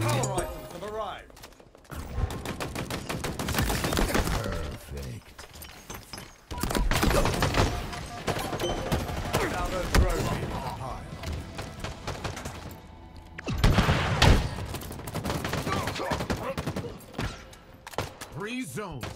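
Bursts of machine gun fire in Halo Infinite multiplayer, rapid dense volleys rising and falling over nearly twenty seconds amid other battle noise, with a voice speaking at times.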